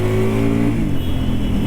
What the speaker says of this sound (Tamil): Wow, exhaust note ultimate.